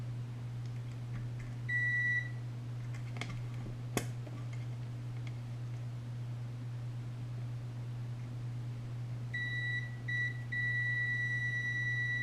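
Continuity beeps from a multimeter tester probing the switch wires of a Cry Baby wah pedal, sounding as steady tonal bleeps: a short one near the start and several broken beeps toward the end, over a constant low hum.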